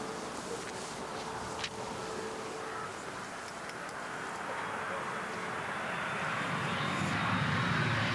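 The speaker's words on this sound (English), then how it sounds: "The Eliica sounds more like a jet aircraft as it speeds up." A rising, jet-like whine builds steadily as an Eliica electric car accelerates, growing louder toward the end over broad rushing noise.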